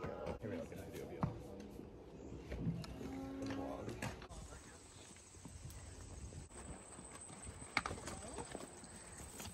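Horse hooves clip-clop in an uneven rhythm against a busy outdoor street background in Toronto, with voices talking over them at moderate volume.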